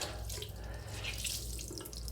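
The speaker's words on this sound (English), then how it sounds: "We're going to rinse that off now." A bathroom tap runs steadily into a sink while shaving alum is rinsed off the face, a soft, continuous splashing stream heard alone.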